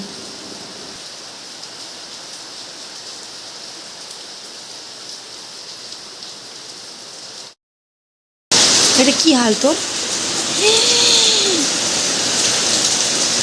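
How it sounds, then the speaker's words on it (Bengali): Steady rain falling, a broad continuous hiss that fills most of the clip, cut by a brief silent gap before louder rain resumes with a person talking and bird calls over it. "আর এখন দেখো কীরকম বৃষ্টি চলে আসছে"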